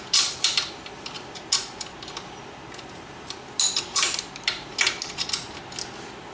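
Sharp metallic clicks and clanks from a ratchet and wrench working loose the axle nuts on a Yamaha Banshee ATV, coming in irregular bursts with quiet gaps between them, close and fairly crisp.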